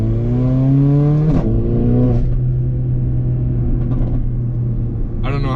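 A Mercedes GLA 45 AMG with a Eurocharged stage 2 tune idles nearby, a loud, steady engine drone that dips in pitch early on, with a few sharp crackles and a brief rev blip near the end.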